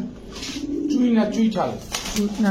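Pigeons coo in low, throaty rolling calls, close by and repeated, mixed with voices talking at a pigeon market.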